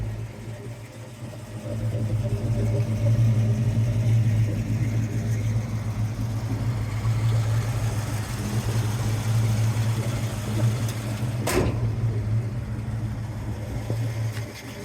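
A 1972 Mercury Cougar with a Q Code Cobra Jet 351C V8 and four-speed drives along, a steady low engine drone heard from inside the car, with one brief sharp knock near the end.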